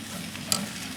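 A steak pulled from a high-heat broiler running over 1,500 degrees Fahrenheit, giving a soft steady sizzle with one brief sharp crackle in the middle.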